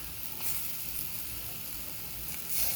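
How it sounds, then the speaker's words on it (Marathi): Tomatoes sauté in masala for chicken with a soft, steady hiss-like sizzle close by, swelling slightly when stirred near the start and end, with no talking. "तर टमॅटो मऊ होस्तवर या मसाल्याला परतून घ्या."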